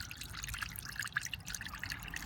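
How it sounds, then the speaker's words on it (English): Water trickles and drips out of an Indesit IWDC6125S washing machine that stopped mid-cycle, a faint, uneven patter of small drips and splashes close by, with no talking. "That water just keeps coming"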